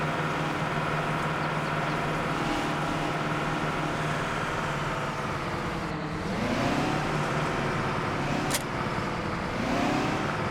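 A Big Bud tractor engine runs in Farming Simulator 17, a steady low droning rumble with a brief pitch swell midway, close and continuous with no speech.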